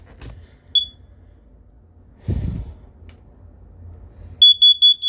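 Sharp electronic beeps from an alarm being tested in a large fifth-wheel trailer: one short chirp, then a quick burst of several rapid beeps at the end, with quiet rustling between.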